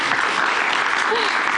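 A studio audience at a late-night television show applauds in a dense, unbroken roar of clapping that holds steady throughout.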